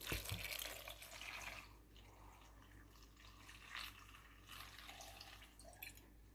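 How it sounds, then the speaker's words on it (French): Water pours into a cooking pot set on a kitchen scale, 500 g measured out for a detox soup, with a soft, fairly faint steady trickle that eases off and then returns in small splashes. "Je vais mettre 500 g d'eau"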